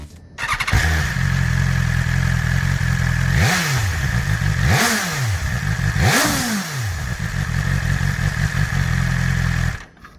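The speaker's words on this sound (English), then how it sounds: "The Akrapovic exhaust is part of the optional M package upgrade." A 2021 BMW S1000R with an Akrapovic exhaust idles loudly, then revs sharply three times in quick succession with a crisp, rasping roar before settling back and cutting off.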